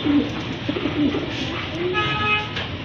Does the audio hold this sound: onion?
no